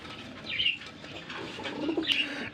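Pigeons coo at a bird farm while wings flap in two short bursts, close and fairly clear over a low background hum.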